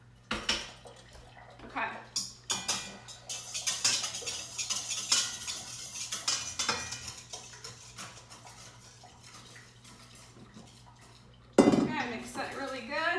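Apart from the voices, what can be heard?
wire whisk mixing dough in a bowl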